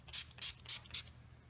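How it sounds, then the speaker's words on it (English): NYX Matte Finish setting spray is sprayed onto a face in four quick hissing bursts, close and fairly soft, with no talk. "we're gonna spray our face with the NYX Matte Finish"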